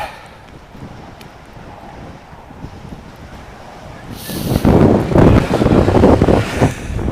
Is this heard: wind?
yes